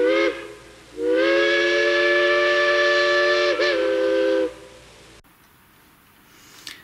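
A Massoth-controlled model train locomotive sounds a loud, sustained steam-style whistle as it starts, holding for a few seconds with a brief dip, then cutting off into quiet.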